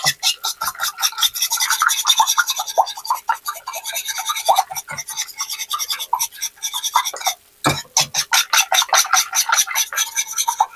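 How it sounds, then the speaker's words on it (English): Eggs are whisked by hand in a bowl for a quiche. Fast, rhythmic scraping strokes repeat close up and loud, with one brief pause before the beating resumes. "whisk that eggs."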